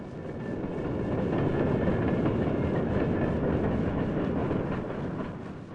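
A train on the Alaska Railroad rumbles past with steady clickety-clack of wheels on the rails, swelling in loudness, holding for several seconds, then easing slightly, with no voices.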